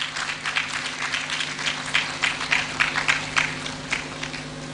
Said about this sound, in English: Please, let's clap for us if he comes.